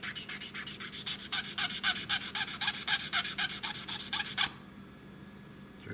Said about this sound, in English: Come in here with a little tiny bit of sanding.